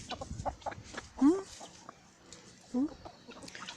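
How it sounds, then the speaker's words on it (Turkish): Two short, loud clucking calls from a rooster stand out against quieter farmyard background noise and faint voices. "Baba horozumuz bu."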